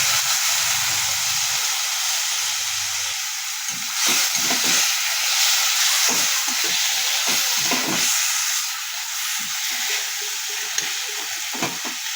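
Boiled tomatoes and a few green chillies tossed into hot oil in a pan sizzle with a steady frying hiss, broken by scraping stirring strokes throughout.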